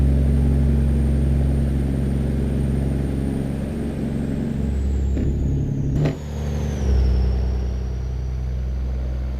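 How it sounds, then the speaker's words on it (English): A loud truck engine in American Truck Simulator drones steadily on a Louisiana run, with a deep constant hum, a brief dip and a hiss near the middle, then the roar resumes, with no talking over it. "This damn truck is loud."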